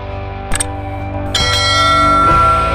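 A notification bell chime rings in a short sequence of bright metallic dings, each leaving a sustained ringing tone. The dings sit over a steady tonal musical background.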